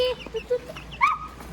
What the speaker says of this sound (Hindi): और देखो मुर्गी बच्चा